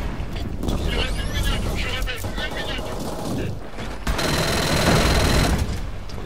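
A submachine gun fires in Killzone Shadow Fall, a video game, in rapid mechanical bursts that rattle close and loud over a dense game soundtrack, with bits of speech mixed in.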